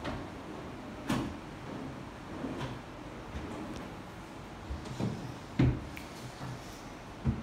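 Wardrobe drawers slide open and shut in a compact studio apartment, giving several soft knocks and clunks spaced irregularly over a quiet room background.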